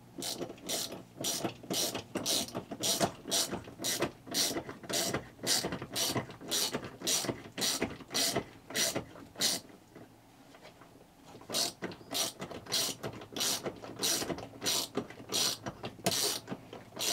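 A hand ratchet tightens a bolt on a van armrest, giving a long run of close, regular clicking strokes, with a brief pause midway before the clicking resumes.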